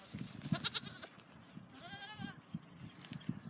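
Faint bleats from a small black lamb and its mother on a Virginia farm come through, one wavering cry standing out amid quiet rustling and handling noises close by.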